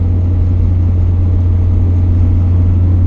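A 2.5-litre NC Mazda Miata idles with a steady low engine hum as it rolls into the pits at Eagles Canyon Raceway, a close and even drone with no revving.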